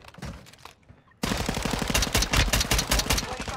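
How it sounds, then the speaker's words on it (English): Rapid automatic gunfire rattles in the video game Warzone 2 on Ashika Island, starting abruptly after a quieter moment with a faint voice, then continuing as dense, loud bursts to the end. "Taking fire over here."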